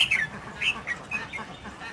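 A red-whiskered bulbul in a singing contest trills in short, bright chirping phrases, repeated several times in quick succession over a low background murmur.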